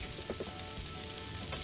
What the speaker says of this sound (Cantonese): 反住嗰條魚就可以落呢個醃過嘅瘦肉，瘦肉就用鹽、糖、鷹粟粉同豉油嚟醃啦